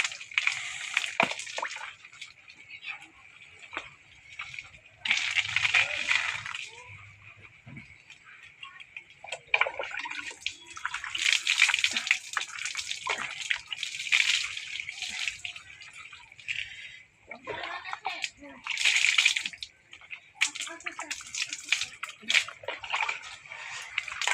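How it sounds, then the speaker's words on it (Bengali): Someone bathes in an outdoor village pond, with repeated bursts of splashing and sloshing water breaking the surface between quieter dripping stretches, close by and fairly loud throughout. "হট করে পুকুরে নেমে গেলাম স্নান করলাম"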